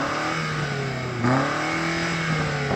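A BMW SUV engine revs hard at a drag race, a steady loud mid-pitched drone that surges upward around the midpoint, close and continuous with no talk.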